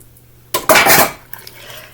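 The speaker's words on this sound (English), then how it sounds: "You don't beat this, you just mix it with a fork." Fork clinking and scraping against a dish while stirring a custard mixture of milk and shredded cheddar for Southern scalloped corn, a brief loud burst of rattling strokes with no talking.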